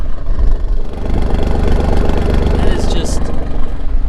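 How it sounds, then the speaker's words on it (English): An Alfa Romeo Giulia Quadrifoglio engine idles with a steady, loud, rumbling burble close by, and a voice talks briefly over it. "listen to this car"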